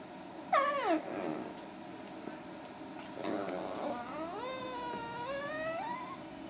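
A chihuahua puppy whines in a high, wavering cry near the start, then gives a longer rising and falling whimpering growl, close and fairly clear with no talk over it.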